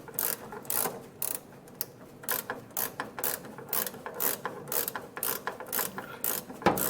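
Ratchet wrench with a 9/16 socket turning a front suspension nut on a 1957 Chevrolet Bel Air restomod, a rapid series of close, loud pawl clicks in repeated bursts with no talking.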